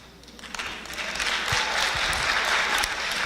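Audience applause at a talk, clapping swelling up from a quieter start into steady, dense clapping that holds to the end, with no voices over it.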